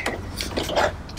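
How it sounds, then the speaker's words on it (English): 22mm ratchet turning the crank pulley on a Subaru engine, with a quick run of close, clicking pawl ticks for about a second. "you're going to need a 22mm ratchet to put over the crank"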